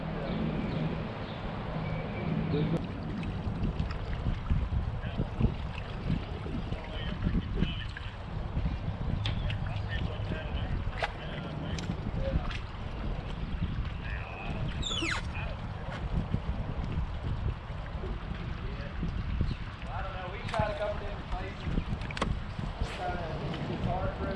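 A bass fishing boat runs home across a central Arkansas lake, its engine and hull giving a loud, continuous rumble with wind buffeting the microphone throughout and occasional voices faintly mixed in.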